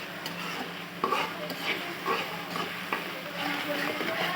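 Onions and green chilies fry in a pan for a cauliflower curry, giving a steady close sizzle with scattered scraping stirs and light utensil clinks against the pan, and no talking.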